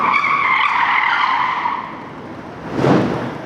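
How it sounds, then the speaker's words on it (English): Car tires squeal in a loud, sustained skid that fades, then a short muffled thump as the car strikes a road sign. "this car accident, they just ran into a sign"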